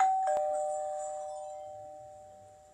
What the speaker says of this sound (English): oh, the doorbell, just let me go get it.